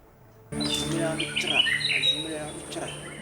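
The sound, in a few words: birds singing and chirping in Lanzoun swamp forest, Benin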